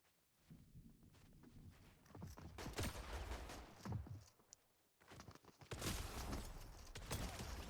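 Bursts of rapid gunfire in Fortnite crackle in quick volleys, with a brief pause midway before another loud flurry of shots.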